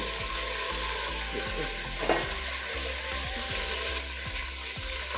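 Ginger paste frying in a pan for a soya pulao and boiled egg dish, a steady close sizzle with occasional stirring scrapes and a brief louder burst partway through.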